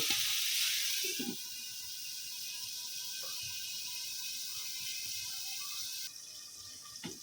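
Potatoes coated in spices fry in a pan with a steady, close hiss of sizzling that holds evenly throughout, with only a few faint knocks.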